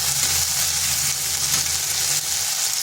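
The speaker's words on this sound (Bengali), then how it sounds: "হালকা একটু মশলাটা ভেজে নিলাম" Ground spice paste sizzling in a pan over low heat, a steady soft frying hiss with a faint low hum throughout, no voices.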